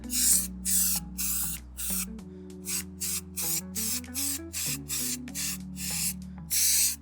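A can of spray adhesive sprays in a series of short hissing bursts, about a dozen evenly spaced puffs, over a low steady hum.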